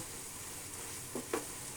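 Dried meat being fried dry in a pan for a bhuna gives a faint, even sizzle in a quiet kitchen, with two soft stirring scrapes near the end.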